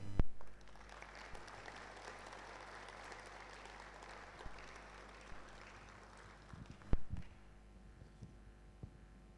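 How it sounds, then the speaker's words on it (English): Steady applause from a conference audience, sustained clapping with a few louder claps and a brief thud near the end. "Ladies and gentlemen, with a round of applause"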